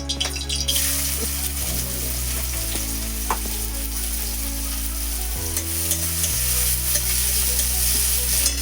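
Onion frying in oil in a pan for chicken momo filling gives a loud, close, steady sizzle with stirring scrapes now and then and no voices.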